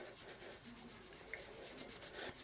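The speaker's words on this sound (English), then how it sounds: "Rub with a clean spot of the cloth at all times. Just small circular motions with your thumb like that." A cloth buffing polish off a stainless steel firearm in small circular motions, heard as a faint, steady, rhythmic rubbing and swishing, close up and with no voices.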